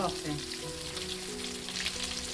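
Brinjal frying in oil over a high flame in a large batch of North Karnataka-style curry. The oil gives a steady close sizzle throughout, with faint stirring and a tonal hum underneath.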